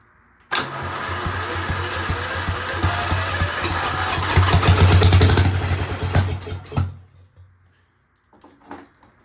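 A seized Mighty Mac 8c skid steer cranks, then its engine catches and runs loud and rough for several seconds before dying away, followed by faint rustling.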